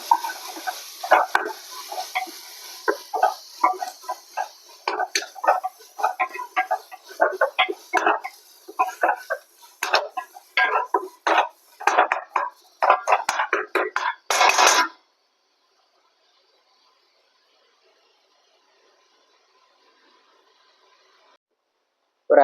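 Ginger garlic paste is stirred as it fries on low heat in a pan for fish biryani. Bursts of close scraping and clinking from the stirring run for about fifteen seconds, then the sound falls to near silence.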